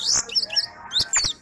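A blue-gray tanager sings outside its cage in quick, bright chirps and sharp whistled notes, close and fairly loud, with no voices over it.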